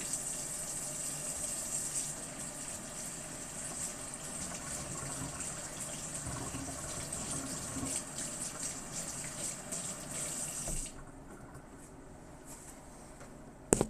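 Tap water runs steadily for hands being washed after handling oily food at a sink, a continuous broadband rush that stops abruptly near the end, leaving quiet room tone and a brief clatter.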